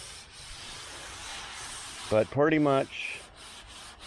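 Metal roof of a 1977 Malibu Classic being sanded, a steady, close abrasive rubbing that runs throughout, with a short stretch of talking midway.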